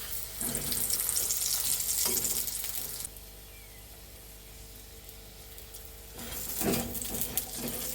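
A paratha frying in white oil, a close hissing sizzle with spatula scrapes and clatter that drops to a quieter simmer midway before swelling again, no voices.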